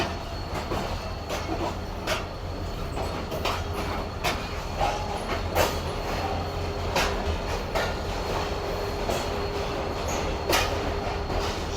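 A Sukkur Express passenger train rolls into platform 4 at Rohri Junction, with a steady low rumble, rail noise and scattered sharp clanks and squeaks throughout, no voices.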